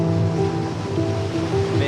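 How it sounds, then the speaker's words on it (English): Steady ocean surf rolls at sunrise as a continuous loud wash of breaking waves with no distinct pauses. "walk down to the ocean"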